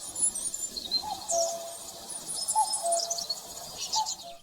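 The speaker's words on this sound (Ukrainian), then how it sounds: "З нетерпінням наші предки чекали кування зозулі." A cuckoo calls a few times among steady chirping and tweeting of other birds, moderately distant, with no voices.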